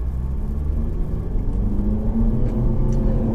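All-wheel-drive hot hatch, a Ford Focus ST, VW Golf R or Nissan Juke Nismo, pulling away from a standing start around 600 RPM, a deep steady engine rumble rising slightly in pitch as it gathers speed.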